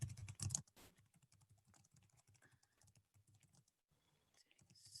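Fingers type on a computer keyboard in quick, irregular bursts of light, close clicks, fairly faint, with a louder clatter at the start and no talk.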